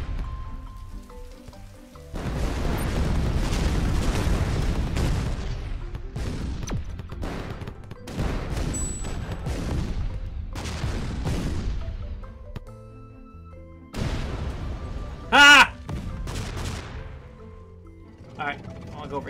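Artillery shots and explosions from the tank game ShellShock Live: a long run of dense, crackling blasts and rumbling impacts, then a few separated booms, with a voice talking over parts of it.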